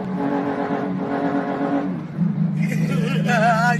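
A Suzuki GSX-S750 motorcycle with an aftermarket slip-on exhaust drones steadily, then revs higher with a rising, raspy note, close and moderately loud with a voice faintly mixed in.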